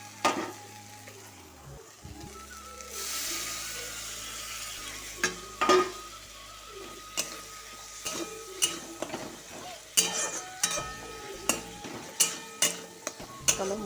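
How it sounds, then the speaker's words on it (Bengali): Ground spice paste with chili being stir-fried in a pan for a shrimp and pointed gourd dish: steady sizzling with repeated scraping and stirring strokes that get more rhythmic toward the end, and a voice speaks briefly in places. "চলো মশলাটাকে একটু কষিয়ে নিই ভালো করে"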